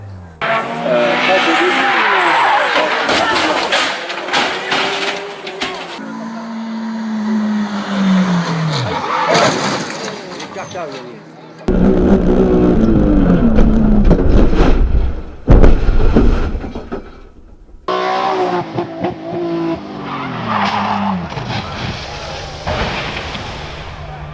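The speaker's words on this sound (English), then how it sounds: "Honda and the Seat of Sergei Afanasiev, which half-spun the Leon" A Seat Leon race car half-spins in a touring car race, with screeching tyres and revving engines in loud bursts and abrupt cuts, and commentary voices over the top.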